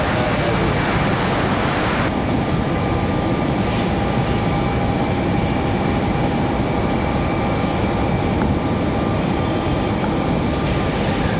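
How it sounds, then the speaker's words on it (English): A CRJ 900LR regional airliner arriving at Raleigh-Durham airport, its engine roar loud, steady and broadband throughout, near and continuous with no talk. "Our next arrival is CRJ 900LR."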